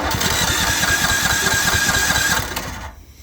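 The engine of a remote-controlled, engine-driven high-pressure sprayer runs with a loud, steady, rapid chugging, then winds down and fades near the end.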